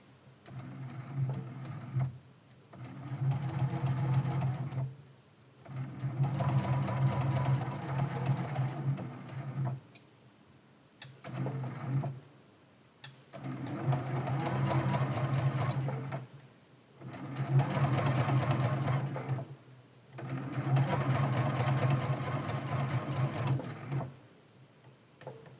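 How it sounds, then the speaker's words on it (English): Sewing machine straight-stitching along the inside edge of a quilt applique at a 2.4 stitch length, in repeated bursts of steady stitching a few seconds long with short stops between, close and clear. "we're gonna go just right along the inside of this applique with a straight stitch"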